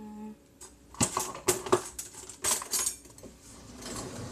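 A metal spoon clinks and rattles against other cutlery in a kitchen drawer, several bright sharp clinks clustered together at close range, with no talk.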